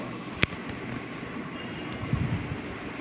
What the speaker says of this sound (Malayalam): നമ്മുടെ ഗുരുവായൂർ ഇൻ്റർസിറ്റി എക്സ്പ്രസ്